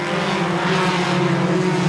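Lightning Stock cars in a short-track heat race make a loud, dense engine roar as the pack passes together in one continuous, close wash of sound.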